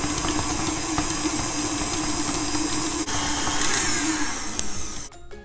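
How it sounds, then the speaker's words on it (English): A blender mixes cream cheese for chocolate cake frosting, a loud, steady whirring drone running continuously before cutting off abruptly near the end. "So I like to blend this first by itself, just so the frosting is a little bit creamier and not lumpy."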